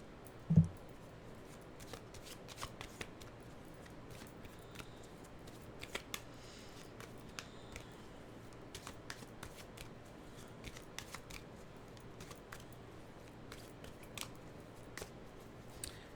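A deck of animal oracle cards is shuffled by hand, making faint, scattered papery flicks and riffles spread over a quiet stretch, with one sharp knock near the start and no talk.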